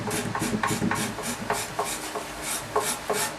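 A guitar neck is scraped while being carved, the wood rasping under repeated rhythmic strokes, each one a close, dry scrape with short pauses between.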